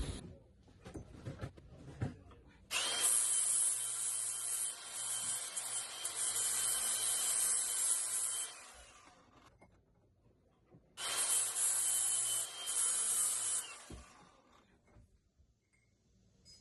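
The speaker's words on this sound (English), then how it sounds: "I think I can touch it up over on my sander." A sander works a metal piece from a pallet jack in a workshop, giving two loud, steady hissing grinds, the first long and the second shorter, separated by a quiet pause with faint handling clicks.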